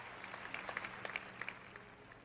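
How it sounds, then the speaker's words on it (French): A few scattered claps from an audience at a ministry gathering, faint and sparse, rising briefly in the middle and fading out. "Vous applaudissez faiblement"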